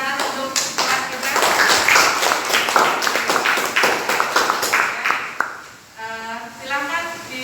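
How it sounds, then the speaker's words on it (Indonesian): Classroom of students clapping together in a sustained burst of applause lasting several seconds, with overlapping claps and some voices, ending abruptly before a teacher's voice resumes speaking. "Boleh kita tepuk tangan untuk kelas kita."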